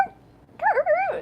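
A human voice mimicking the lone call of a coyote from a canyon, one short rising and falling yip-like wail after a brief faint note, close and clear.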